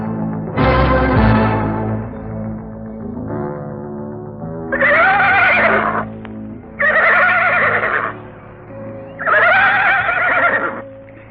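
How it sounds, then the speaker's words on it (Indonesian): Horse neighs and whinnies as a radio drama sound effect: one long whinny near the start, then three loud, repeated neighs at a steady spacing, close and prominent over a faint musical or ambient bed, with no talk. "Saya rasa kuda ini cukup baik untuk menempuh perjalanan jauh."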